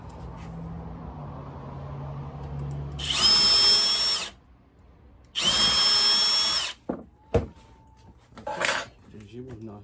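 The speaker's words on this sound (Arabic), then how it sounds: "نجيبو هنا هاد الشنيور الاخر صافي،" Two loud bursts of a power drill whirring into wood, each a second or so long, followed by clattering handling noises and a short final whir.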